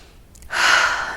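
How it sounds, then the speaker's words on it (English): One big, noisy breath taken in during an EFT tapping session: a short, loud, airy rush that starts after a brief pause and fades slightly at the end. "Big noisy breath again."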